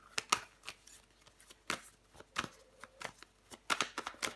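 Tarot cards shuffled by hand, a series of crisp riffling and slapping bursts at an uneven rhythm, close and fairly quiet, with no talking.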